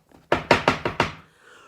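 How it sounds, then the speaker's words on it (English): Heavy knocking on a front door at night: five loud, evenly spaced raps in quick succession, close and sharp, followed by a quiet tail. "There was no answer, only another loud knock."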